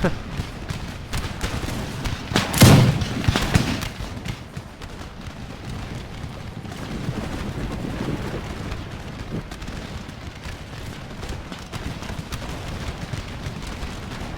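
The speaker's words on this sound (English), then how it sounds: "it's kind of more fun just watching a big shootout" Sustained musket fire from a large line battle in Empire Total War, a dense rolling crackle of many shots with one louder burst near the start. Speech-like noise is mixed into the fray.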